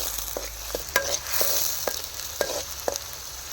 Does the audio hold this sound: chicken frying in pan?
yes